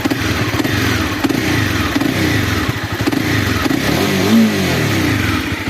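Honda CBR300R motorcycle engine revving close by as the throttle is blipped, a loud continuous rasping drone that climbs and falls in pitch over several seconds, with no talking.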